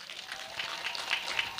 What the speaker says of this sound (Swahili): Mpigeni makofi jamani